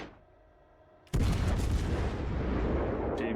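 Secondary guns on a warship in World of Warships Legends fire in a sudden loud rolling barrage that keeps booming continuously after a quiet start.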